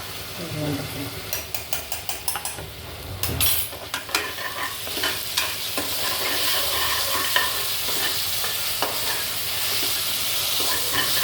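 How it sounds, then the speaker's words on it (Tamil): Ginger garlic paste frying with onions in a pan, a close, loud sizzle with brisk clattering stirs and spoon taps on the pan early on, easing into a continuous hiss, with no speech. "இப்போ இஞ்சி பூண்டு ஸ்பூன் போட்டுக்கணும்."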